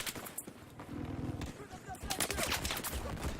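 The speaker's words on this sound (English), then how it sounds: "Let's see if he can get some more long range shots." Battlefield 4 PC competitive conquest match, with AEK rifle gunfire in quick bursts of sharp shots between brief pauses under the noise of the battlefield, while a commentator talks over it.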